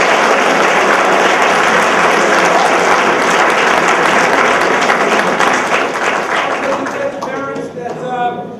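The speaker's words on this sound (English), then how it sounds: "So can we have another round of applause" An audience at a high school spring sports awards ceremony claps and applauds in a loud, sustained wash that slowly thins toward the end into scattered individual claps.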